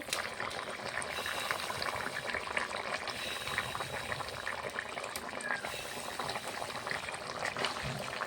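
Fish curry (katla fish jhol) simmering in a pot, a steady dense bubbling and rolling boil heard close and continuous throughout, with no talking.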